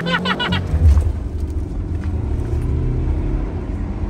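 An idling car engine runs with a steady low rumble in freezing -20 degree conditions, with a short burst of voices at the start and the engine continuing alone afterward.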